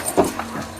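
A dog left alone in a house gives a brief, faint whimper or two, close by, over low background noise.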